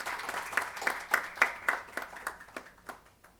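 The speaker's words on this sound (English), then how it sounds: "I'll request you please give a big applause to the Department of Hospital" Sparse, fading clapping from a small audience at a hospital administration conference, with individual hand claps standing out in an uneven rhythm that thins toward the end.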